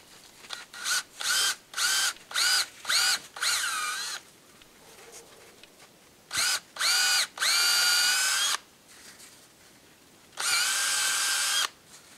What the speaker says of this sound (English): and just drill it in